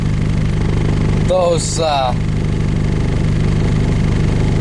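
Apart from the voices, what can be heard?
diesel engine idling after a cold start in winter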